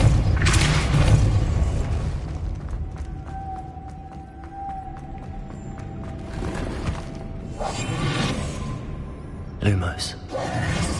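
A Depulso spell is cast in Hogwarts Legacy on PS5. It lands as a deep, booming burst among game effects, with more whooshing magical blasts and a rumbling low bed. A voice says the spell names.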